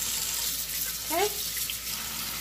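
Water tap running into a sink while raw meat for sancocho is rinsed, a steady faint hiss of flowing water with a brief gurgling splash in the middle.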